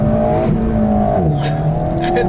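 An Alpine A110 S sports car engine drones and shifts pitch while drifting on an Alpine road, with a steady mechanical tone that wavers under light tire noise and a voice talking over it.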